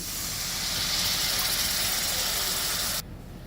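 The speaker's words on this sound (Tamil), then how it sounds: "இந்த புளியை கரைச்சி வச்சுருக்கோம் இல்லையா, அதை ஊற்றிடுவோம்" Tamarind water poured into a simmering paruppu urundai kuzhambu, a loud continuous hiss and sizzle of liquid hitting the hot pot for about three seconds, then dropping to a softer simmer.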